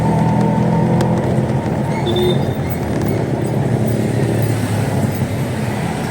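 An auto rickshaw pulls over to the roadside: a loud, steady engine and road noise close by, a dense continuous rumble with no clear talk.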